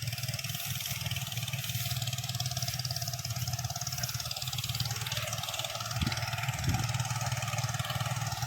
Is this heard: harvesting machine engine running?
yes